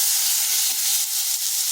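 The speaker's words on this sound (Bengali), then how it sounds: "এদিকে কাঁকরোলটা ভাজা হোক" Teasel gourd (kakrol) fries lightly in a pan with turmeric, giving a steady, close sizzling hiss of hot oil that holds evenly throughout with no voices.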